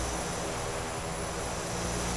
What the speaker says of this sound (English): we have different sounds from the back as we do from the front, as different parts of the engine get picked up by the viewing position better